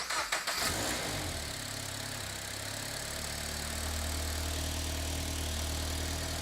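A turbocharged Subaru BRZ cranks and fires up with a push-button start, then settles into a steady, fairly loud idle with a low drone.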